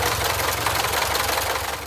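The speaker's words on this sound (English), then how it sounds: "it's actually idling on its own now" A barn-find Austin-Healey Sprite engine idling on its own, a steady low mechanical rumble with a fast, regular knocking pulse underneath and broad hiss above, close and continuous, no voices.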